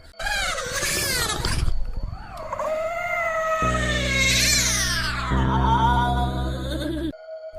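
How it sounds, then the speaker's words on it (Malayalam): A giant cat from a Japanese supernatural horror film gives long, loud, drawn-out meows and caterwauls that rise and fall in pitch, joined midway by a low droning tone, with no talking. "ഫ്ലോറിൻ്റെ അടിയിൽ നിന്നും വലിയൊരു പൂച്ച വന്നുകൊണ്ട് എല്ലാവരും തിന്നാൻ തുടങ്ങുകയാണ്"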